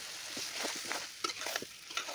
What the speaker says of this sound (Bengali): সব মশলার সঙ্গে চিংড়িটা আমি একটু কষিয়ে নিয়ে দিয়ে দিলাম সেই ভাপিয়ে রাখা মোচাটা